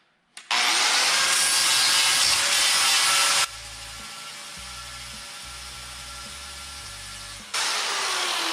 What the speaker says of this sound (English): We're gonna grind these knobs off here.